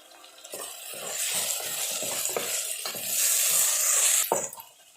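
Three green chilies sizzle in hot oil while being stirred for mushroom biryani, a steady close frying hiss with clinks of a spoon against the pan throughout.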